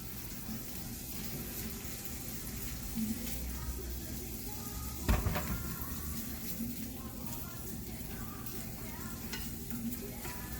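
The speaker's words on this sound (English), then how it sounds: "That means it's hot enough to put in your Spam." Spam slices fry in a hot pan, a steady loud sizzle running the whole time, with one sharp clatter midway as the meat or pan is handled.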